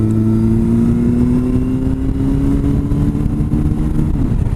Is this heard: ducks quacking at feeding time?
no